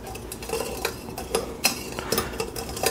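Metal spoon scraping and clinking against a funnel while stirring dirty used deep fryer oil clogged with debris, a series of close, sharp scrapes and taps in an irregular rhythm with no talk.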